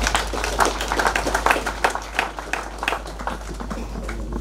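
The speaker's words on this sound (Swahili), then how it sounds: "hebu mwapigie makofi wa waimbaji" Clapping from a church congregation at a bishop's burial service, honouring the singers. Scattered, uneven hand claps under a low steady hum, moderately distant and fairly faint, with no one talking over it.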